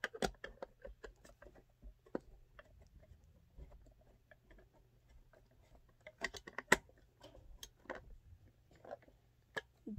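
Screws being driven back into the plastic casing of a Midland WR-120 weather radio, heard as scattered small ticks and clicks with occasional sharper taps, quiet and close, with no talking.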